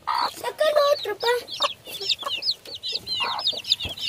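Close, rapid clucking and high peeping from a hen and her newly hatched chicks in a garden coop, a busy overlapping chorus with someone speaking briefly near the start.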